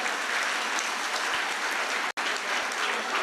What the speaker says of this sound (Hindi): इस बात के लिए एक जोरदार ताली बजाइए आप सारे लोग।